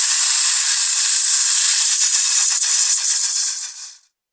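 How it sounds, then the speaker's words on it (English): A steady loud hiss like escaping steam or spray, continuous and even for about four seconds before fading out abruptly. "Hiss."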